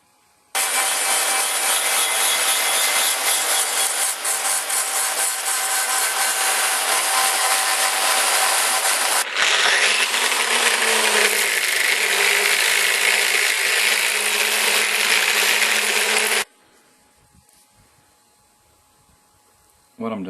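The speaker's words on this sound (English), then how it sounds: "what I'm using here is a matchstick stone for this Metabo grinder" A Metabo die grinder with a matchstick sanding stone whines steadily and loudly for about sixteen seconds, grinding against a rifle stock during bedding, then cuts off into near silence before a brief restart.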